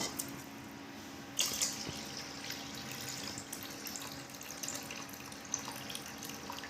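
Water splashes and trickles as aval (poha) is rinsed and drained in a kitchen for upma, a close, quiet run of pouring with small drips and clinks.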